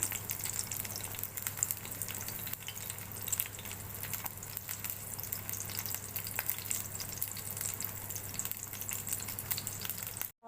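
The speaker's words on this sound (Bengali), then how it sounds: "এখানে ডিমগুলোকে দিয়েছি। এখন তেলে দিয়ে দিবে। তো এই যে দেখো কেমন করে ভেজে নিচ্ছি" Eggs fry in hot oil with a faint, continuous crackling sizzle over a low steady hum, then cut off abruptly at the end.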